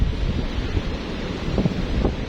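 Steady surf rolls and washes along the shore, with wind buffeting the microphone the whole time. No voices are heard.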